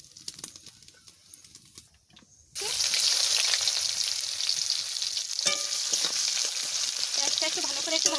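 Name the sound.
cumin frying in oil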